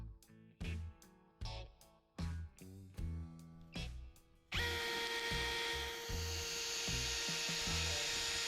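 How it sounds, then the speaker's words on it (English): A power drill bores holes for bolts, starting with a series of short, loud whirring bursts and then settling into one long, continuous high-pitched run, close by. "drill a couple holes for these bolts to go through"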